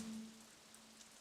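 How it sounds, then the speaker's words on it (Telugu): Steady rain falls outside a home, a soft even hiss of drops with a faint constant hum underneath and no talking. "సరే సరే, వర్షం పడుతుంది"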